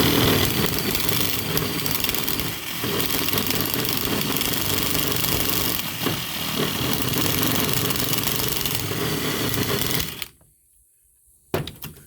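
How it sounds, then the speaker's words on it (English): A handheld grinder grinds metal during welding repairs on a wobbly hunt buggy, a loud, steady, continuous whine for about ten seconds before cutting off abruptly, followed by a brief clunk. "Have to grind a little more."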